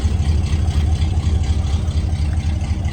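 A 1968 Oldsmobile Delta 88 Holiday Coupe, a full-size car, idles through its dual exhaust on a cold day, giving a steady, loud, low rumble with a slight regular pulse that continues throughout.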